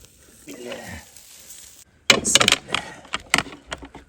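Fish sizzling in a pan on a grill setup, with sharp crackling bursts after a quieter stretch, punctuated by clinks and stirring noises close by.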